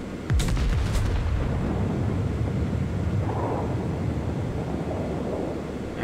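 Battleship Yamato firing its main guns in a naval video game, a heavy close blast near the start followed by a long rumbling roar that fades slowly.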